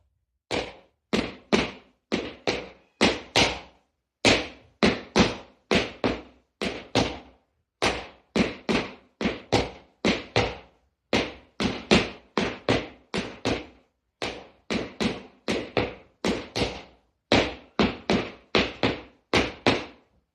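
Wooden clogs strike a hard floor in a Lancashire clog dance step, a steady run of crisp, close taps grouped in repeating rhythmic phrases with brief pauses between sets, no talking over them.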